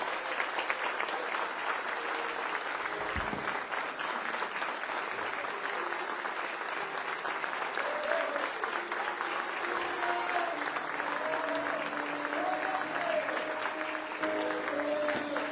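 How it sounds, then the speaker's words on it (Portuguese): A church congregation applauds at a worship service, a sustained dense wash of clapping from many hands that stays even throughout, with faint voices and cheers rising in the background. "ofereça a melhor salva de palmas para Jesus"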